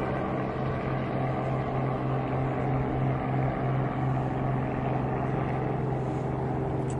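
A helicopter flies overhead in Rio de Janeiro, a steady low droning rotor hum that stays constant and moderately loud throughout, with no speech.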